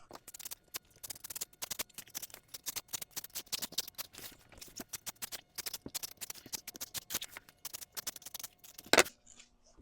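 Scissors snip through tire tread material for an electric ride-on car, giving a long run of crisp, close cutting clicks in an irregular rhythm, ending with one louder snip.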